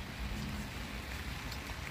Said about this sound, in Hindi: यहाँ पे काफ़ी बारिश है